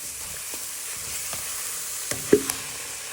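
Plum tomatoes and prawns in a hot pan give off a steady sizzle and fry, with a few soft scrapes and clicks as a utensil stirs and presses them near the end. No one speaks.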